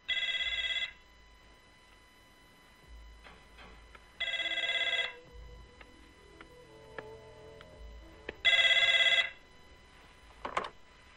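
An old-style telephone bell rings in three loud, evenly spaced bursts of about a second each, with quieter background sounds in the pauses between the rings.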